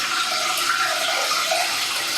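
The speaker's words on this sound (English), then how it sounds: "decanting my sugar water" Sugar water poured from a container into a large ice bucket for homemade limoncello, a steady, close splashing stream of liquid running continuously without pause.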